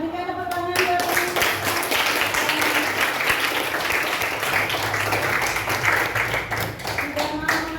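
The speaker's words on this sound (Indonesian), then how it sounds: "berikan tepuk tangan buat kami." Children in a school classroom applaud, a steady burst of clapping from many hands lasting several seconds, with voices faintly underneath and talk at the start and end.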